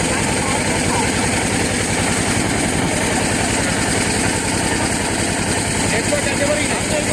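A trawler boat engine chugs in the Sundarbans with a steady, rapid low-pitched throb, loud and close throughout, while a person talks over it.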